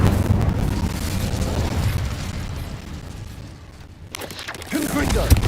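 A fire spell is cast in the Hogwarts Legacy game: a dense burst of whooshing, crackling flame noise that dips quiet before flaring up again, mixed under game sounds and a voice.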